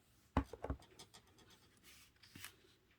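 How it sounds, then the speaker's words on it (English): A stamp block pressed onto watercolor paper makes a few sharp, close knocking and scraping taps, then fainter rubbing sounds, quiet and without voices. "That was my stamp, people, and my block, not me."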